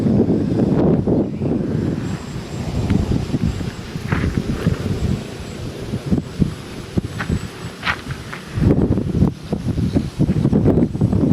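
Strong wind buffets the microphone outdoors while a one-metre RC sport plane with teardrop-profile wings flies, a loud continuous rumbling roar with gusty surges and brief lulls throughout.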